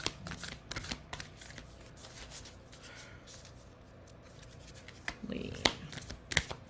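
A deck of cards being shuffled close by, soft riffling and rubbing bursts with sharper snaps near the end, under quiet background talk.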